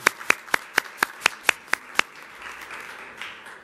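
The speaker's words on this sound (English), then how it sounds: "let's give them a special round of applause" About eight evenly spaced, crisp hand claps ring out close and clear at a meeting, then stop, leaving a faint murmur of room noise.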